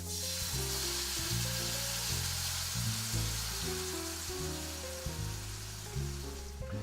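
San Marzano tomatoes hit a hot pan in a pasta kitchen, giving a steady, loud sizzle and fry hiss that runs the whole way through, with faint stirring and low music-like tones underneath.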